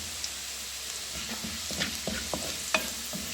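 Cumin and garlic fry in hot oil for a spiced okra curry, a constant sizzle with several light stirring scrapes and clicks scattered through, close by and with no talking.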